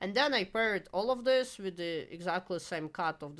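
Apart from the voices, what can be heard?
No everyday noise stands out behind the speech.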